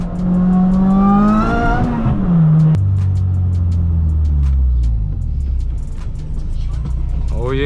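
An all-wheel-drive car revs hard and rips away at a car meet, its engine note climbing through gears and then dropping into a deep, loud roar as it pulls off. People talk over it.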